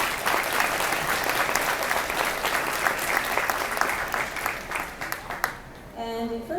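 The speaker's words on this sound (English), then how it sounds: "please give them another round of applause" Steady, full audience applause at an alpaca show rings out across the arena for several seconds, then abruptly drops away as a voice begins speaking.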